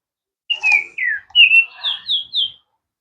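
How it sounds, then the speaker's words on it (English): A bird sings outdoors in a bright series of about six clear whistled chirps, close and loud, falling and rising in quick succession with short pauses between, with no other sound around them. "That bird sounds really pretty."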